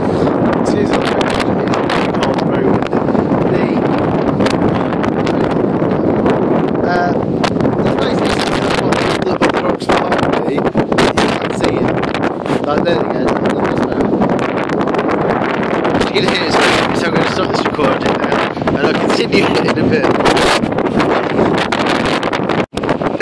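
Strong wind on Haughmond Hill in Shropshire buffets the microphone continuously, a loud, rough, gusting roar with no pause.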